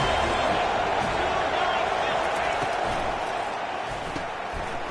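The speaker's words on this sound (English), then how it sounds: "This crowd bringing the energy and noise early." A large stadium crowd roars and cheers at a football game in a steady, dense wash of noise, with a commentator speaking over it.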